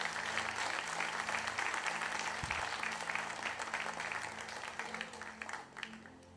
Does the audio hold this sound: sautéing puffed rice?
no